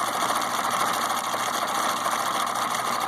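A Husqvarna Viking 6440 sewing machine stitches a heavy, dense decorative pattern, a rapid steady mechanical whirring and ticking hum that runs evenly throughout, fairly quiet and close, with no talking.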